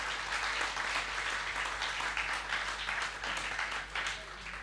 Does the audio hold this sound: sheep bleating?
no